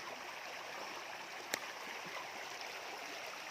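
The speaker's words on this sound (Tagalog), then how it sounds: "Natural talaga yung tubig dito na dumadaloy. Galing mismo sa bundok." Soft, continuous rush of mountain stream water flowing at Bayugao Falls, faint and even, with one brief sharp click midway and no talk.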